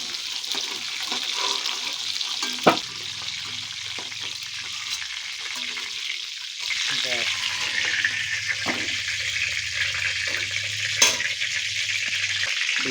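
Pieces of pointed gourd fry in hot oil in a pan, giving a steady sizzle throughout with a couple of sharp utensil clinks against the pan.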